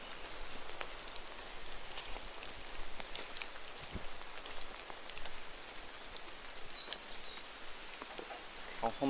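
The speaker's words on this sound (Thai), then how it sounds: "ตกตั้งแต่ออกมาจากป่าหญ้าแล้วนะครับฝนครับ" Steady rain patters outdoors with a dense hiss and scattered drops, continuous throughout, with occasional faint rustling underneath.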